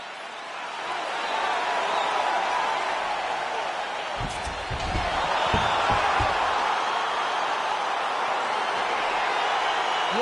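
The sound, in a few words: crowd cheering at a UFC fight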